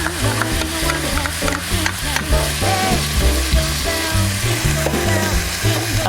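Ginger and garlic fry in oil in a pan with a loud, close sizzle, overlaid by a steady musical melody.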